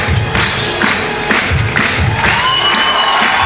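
A large crowd cheers and shouts in an outdoor arena at a bouldering competition semi-final, a continuous loud roar of voices swelling in repeated waves, with occasional whoops and thuds.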